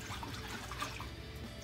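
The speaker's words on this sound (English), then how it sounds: "I'm going to put a little soap here in the water" Water trickles and sloshes in a sink with soap added to make suds for rinsing excess dye out of a freshly dyed skein of yarn, a soft, steady running-water sound close by with no talking.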